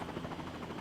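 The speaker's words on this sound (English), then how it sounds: "So that's the helicopter that flies over." Helicopter from Farming Simulator 19 passing over a farm, a steady low rotor drone held at a faint, even level throughout with no talk.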